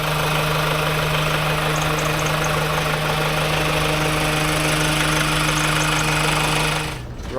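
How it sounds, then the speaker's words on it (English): An AutoTrail F62 motorhome engine drones loudly and steadily from inside the cab while driving, a constant low hum with a slight knocking vibration that holds for seven seconds before dropping away abruptly. "This is the AutoTrail F62, and well, it's not the most quiet of vehicles"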